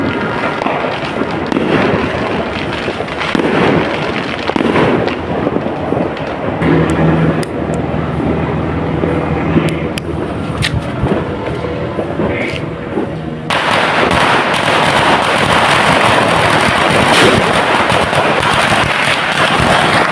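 Continuous rumbling bursts and crackling from New Year fireworks going off at a distance, dense and steady throughout, growing louder and harsher in the final stretch.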